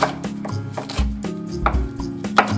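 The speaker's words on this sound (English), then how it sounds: "I line them up and then chop these into sort of little bite-sized pieces." A knife chops bell peppers and other vegetables into bite-sized pieces on a cutting board, with steady, irregular thuds and crisp cuts repeating close up, no talking.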